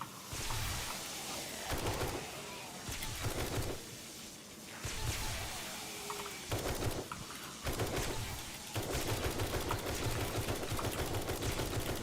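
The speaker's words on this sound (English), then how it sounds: "Let's try this assault rifle." An assault rifle firing in 7 Days to Die, quick rattling bursts broken by short gaps, then a longer continuous stretch of rapid fire near the end, loud and up close.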